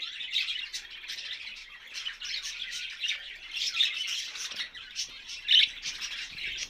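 Small birds in an outdoor aviary chirp and squawk in a steady, busy chorus, with one sharper call standing out near the end.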